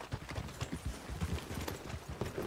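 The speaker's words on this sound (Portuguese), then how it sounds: "Deixa eu chamar aqui meu cavalo." Horse hooves trotting in the video game Red Dead Redemption 2, a quick steady clip-clop rhythm of repeated hoofbeats at moderate volume, continuous throughout.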